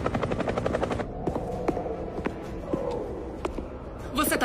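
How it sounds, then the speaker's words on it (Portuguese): Helicopter rotor thumps rapidly and steadily nearby, then fades under a voice and scattered sharp knocks. "Estou vendo o helicóptero."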